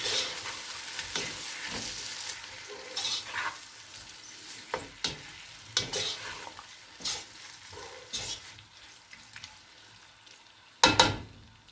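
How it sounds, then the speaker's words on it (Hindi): Chili flakes, turmeric and salt stirred into a sizzling pan of brinjal and tomato, a spoon scraping and knocking in repeated close strokes over steady frying hiss, ending in a sharp louder clatter. "कुटी मिर्च, हल्दी और नमक। इन्हें अच्छे से मिक्स कर लेंगे।"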